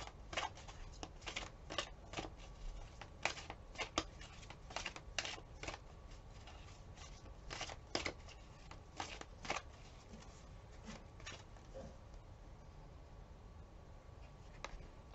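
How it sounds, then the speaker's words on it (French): Cards are shuffled and drawn at close range, giving a series of quick papery riffles and flicks in irregular bursts against a quiet background. "je vais quand même tirer une autre carte pour le secret"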